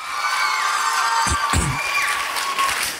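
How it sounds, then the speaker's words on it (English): An audience at a secondary schools poetry slam in Trinidad breaks into applause and cheering, a dense crowd wash with a couple of sharp louder bursts and whoops. "Next round of applause for Fidel."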